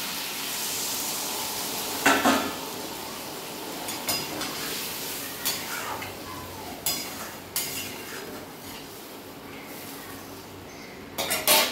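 Metal pot and utensils clinking while a pot of potato and ivy gourd curry is covered, with scattered clanks and scrapes over a soft bubbling simmer.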